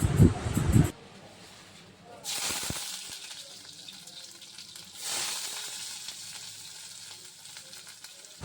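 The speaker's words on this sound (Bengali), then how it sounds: "পেঁয়াজ আর লঙ্কাটাকে দিয়ে ভালো করে একটু লাল লাল করে ভেজে নেব" Chopped onion and green chili hit hot oil seasoned with nigella seeds, followed by two bursts of loud hissing sizzle that swell and then settle into a steady frying crackle.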